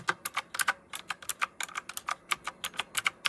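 Typing on an RK Royal Kludge S108 retro typewriter-style mechanical keyboard with round keys, a quick, uneven run of loud, crisp clacking keystrokes close to the microphone, about five to six per second with no speech.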